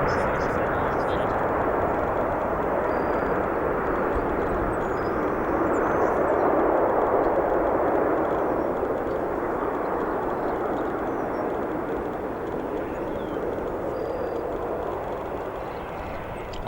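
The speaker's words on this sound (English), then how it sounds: "Smoky touchdown there on 10 Center, an 11-year-old 737-800" An 11-year-old Boeing 737-800 touches down on runway 10 Center at O'Hare, a continuous loud jet roar and rush of wind that swells slightly midway and eases off toward the end.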